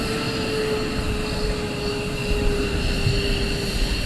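Aircraft engine roar at RAF Lakenheath as F-15E fighter jets depart on afterburner: a steady, broad, loud rumble with a faint whine, constant throughout with no speech.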